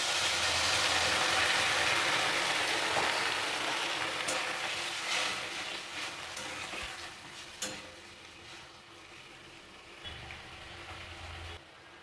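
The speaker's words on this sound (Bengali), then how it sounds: "দেখো সিমের ঝোলটা ফুটে উঠেছে।" A vegetarian flat-bean curry bubbles and simmers in a pan, a steady close-up hiss and crackle with a few sharp clinks, easing slightly in loudness over about twelve seconds, with no talking.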